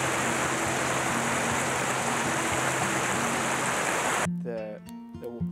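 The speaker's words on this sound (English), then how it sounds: "The sound of the water just sort of takes your thoughts somewhere else." Flowing river water in autumn tailwaters, a broad continuous rush that fills most of the clip with a low steady hum beneath, then drops away near the end as a voice comes in.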